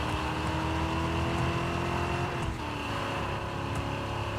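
In the Samson: A Tyndalston Story video game, a car drives over bumps with a continuous engine drone, plus a few faint pops and thumps, with no talking.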